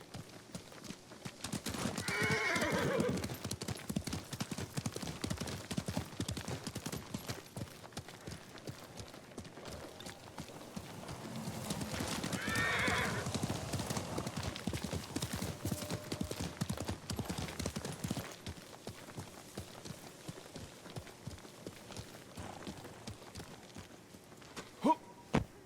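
Hooves clip-clop steadily on the ground for a long stretch in the Ghost of Tsushima game, with two drawn-out horse neighs rising above the rhythmic footfalls and no talking.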